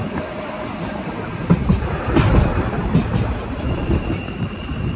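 A train rumbles steadily along the rails nearby on the single-track mountain line from Interlaken Ost to Grindelwald, Switzerland, with a broad roar, faint clacking and a light metallic squeal.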